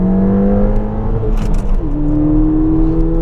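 A Mountune MP215-upgraded Ford Fiesta ST-2 engine pulls hard from inside the cabin, its rising drone dropping at a gear change and climbing again, loud and steady.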